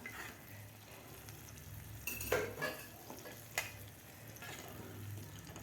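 A spoon stirs and scrapes masoor dal with water inside a pressure cooker, with a few clinks against metal and a soft bubbling hiss in the background.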